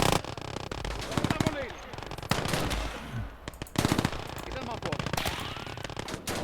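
Quad Maxim machine guns fire in long rattling bursts in a World War I style battle game, with other gunfire and explosions around and someone talking over the shooting.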